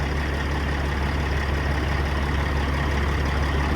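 A Cat C15 diesel truck engine idles steadily while cooling down with its engine fan running, a continuous close, loud low rumble with a constant drone and no talking.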